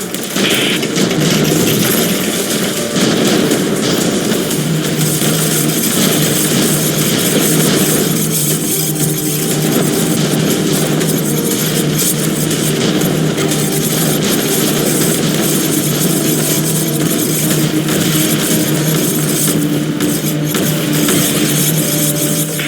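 Helicopter gunships attack aliens in the tower-defense game X-Morph: Defense, with a steady, dense mechanical drone of rotors, engines and weapon fire that stays loud and continuous throughout.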